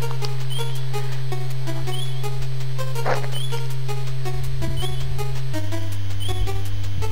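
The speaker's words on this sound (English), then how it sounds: "Okay, that noise is just the hearts." Low-health warning beeps from the NES game StarTropics, a steady repeating electronic tone pattern running alongside chiptune music, continuous and fairly loud with no talking.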